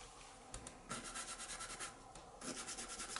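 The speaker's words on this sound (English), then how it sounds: "and then we blend with a bristle brush" A bristle brush blends pastel pencil on paper with soft, close rubbing strokes in quick rhythmic bursts and brief pauses between them. The sound is faint and dry, and nothing else is heard.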